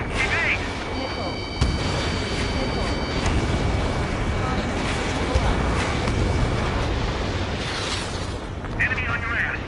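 Missile strikes and explosions in Ace Combat 7 roar as a constant loud barrage of blasts and rumbling fire over a jet dogfight, with pilots' radio chatter running underneath.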